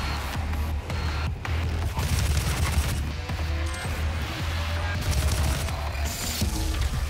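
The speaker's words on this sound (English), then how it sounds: "I love the assault rifle." Assault rifle fire in the video game DOOM, dense continuous shooting mixed with booms and heavy game sound effects, loud and sustained throughout.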